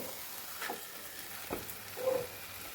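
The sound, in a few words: frying and stirring food in a pan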